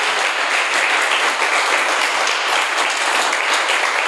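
A church congregation applauds during a worship service, a dense and loud burst of clapping that holds steady throughout without pause.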